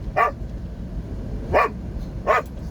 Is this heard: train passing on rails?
no